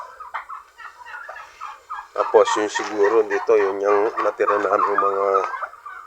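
Chickens on a Filipino backyard farm, among native fowl, give loud, rapid clucking and squawking calls in a burst lasting several seconds, following someone speaking quietly nearby.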